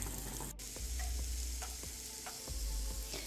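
Cauliflower vegetable fried rice cooking in a pan: a faint steady sizzle with several scattered stirring clicks and scrapes, close by, without talk.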